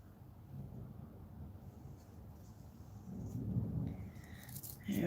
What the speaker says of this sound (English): I can hear the thunder rumbling, getting closer